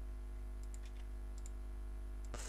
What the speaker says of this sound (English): now type in this key